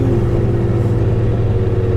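A 1992 Toyota Cressida sleeper making 1057 bhp drones loudly and steadily from close by, its engine holding a continuous mid-pitched roar without pause.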